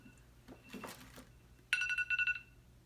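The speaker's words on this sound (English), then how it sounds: "That was my work phone having a conniption fit." A work phone rings in a quiet room, a short electronic trill of several rapid pulses after a brief rustle, fairly loud and close.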